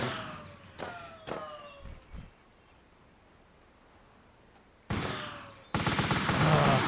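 Gunfire in the video game Army Men Land Sea Air on PlayStation: a few sharp shots with whistling sweeps early, a quiet gap, then loud dense bursts of rapid fire at the end.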